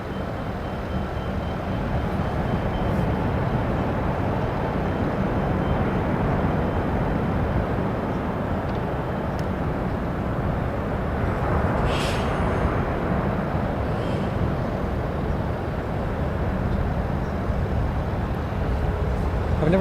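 Airbus A350-1000 airliner taking off from LAX runway 24 left, a loud, steady, broadband engine roar that fills the whole stretch without letting up.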